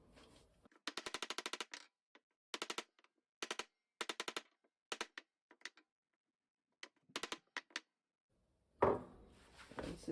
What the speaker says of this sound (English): You can just take a socket and put on top of the seal and bang on the socket instead of the seal.